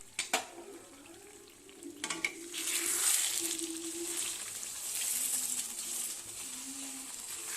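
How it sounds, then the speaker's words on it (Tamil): Rice dough made from parboiled ration rice is stirred and turned in a pan, with a steady scraping stir over soft sizzling, close and continuous, with a few sharper clinks of the utensil against the pan. "நல்லா பிரட்டி பிரட்டி கிண்டிக்கலாம்"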